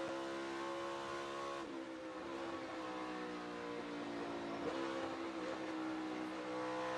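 An IndyCar race car in practice and qualifying for the 2023 Enjoy Illinois 300, its engine roaring loud and continuous through hard downshifts and briefly brushing the rev limiter, with no talk over it.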